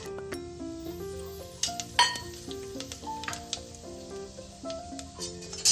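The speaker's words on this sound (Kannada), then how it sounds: "ಎಣ್ಣೆ ಚೆನ್ನಾಗಿ ಕಾದ್ಮೇಲೆ ಎಲ್ಲ ಸ್ಪೈಸಸ್ನ ಕೂಡ ಆ್ಯಡ್ ಮಾಡ್ಕೊತಾ ಇದ್ದೀನಿ" Spices fry in hot refined oil in a cooker for a vegetable kurma, a steady sizzle running under louder tuneful music, with occasional light clinks of utensils.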